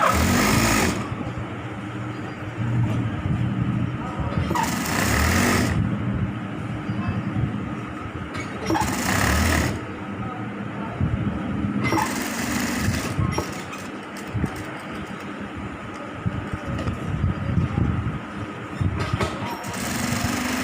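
Sewing machine stitching a shirt's stand collar, its motor whirring in long steady runs broken by brief pauses, close and continuous.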